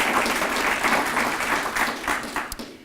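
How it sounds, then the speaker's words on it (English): A room full of people applauds at a county workforce announcement, dense clapping at close range that thins out and tapers off near the end. "Give yourself another applause."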